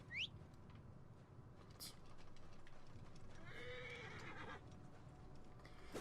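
A horse in Assassin's Creed Origins whinnies loudly at the start, then hooves clip-clop and patter under faint game ambience, with a second softer neigh midway.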